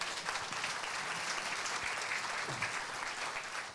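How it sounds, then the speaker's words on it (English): An audience at a Power Talks event applauds speaker Kuan Mun Leong with dense, even clapping from many hands. It holds steady throughout, heard at a moderate distance. "Can we give a round of applause to Mun Leong here?"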